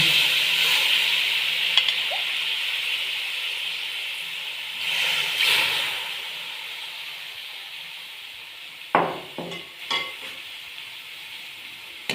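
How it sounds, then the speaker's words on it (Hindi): Chicken stock poured into a hot pan of Chinese noodles with chicken and vegetables gives a steady sizzling hiss that slowly fades, swells briefly, then gives way to a few sharp clatters near the end. "अब हम इसमें यखनी डालेंगे।"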